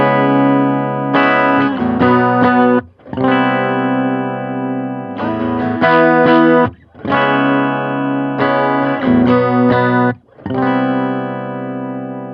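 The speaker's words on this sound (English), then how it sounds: "we're just gonna start off doing some clean chords so you can hear the nice clarity and chime that this amp" Clean electric guitar chords ring through a Supro Delta King 10 amp with reverb, strummed in bright, chiming phrases separated by brief pauses, loud and close with no talking.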